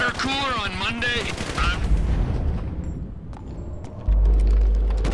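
Gunfire in the video game GTA 5: someone talks excitedly over the first half, then sharp bursts of shots ring out and a loud, heavy burst closes the clip.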